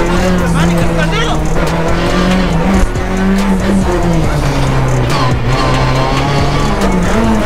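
Rally car driven hard around a race track, with a loud, close engine straining steadily, tires squealing and skidding through corners, and voices talking over the engine noise inside the car.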